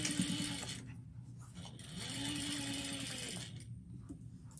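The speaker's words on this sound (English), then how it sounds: "I'm sewing without thread right now on the top" A sewing machine runs with no top thread while a sling is being sewn, a fast steady mechanical whirring with a slight change in speed partway through, close and clear with no talking.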